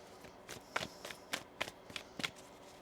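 Tarot cards are shuffled by hand in a quiet room, a run of about ten soft, crisp riffling bursts at a steady pace, close and fairly faint.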